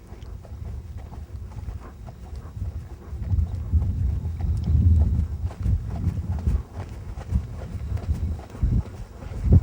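A ridden horse moves from a walk into a trot, its hooves thudding in a steady, fairly close rhythm over light wind noise.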